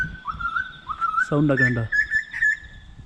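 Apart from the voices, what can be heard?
koel-like bird singing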